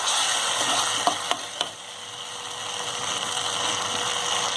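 A mixture with vinegar being stirred in a bowl for veg lollipops, heard as a constant close hiss with a few sharp clicks of the spoon against the bowl.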